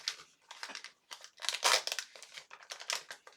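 Sealed trading card box packaging being opened, with bursts of close, crisp plastic crinkling and rustling in irregular clusters, loudest near the middle, with no talking.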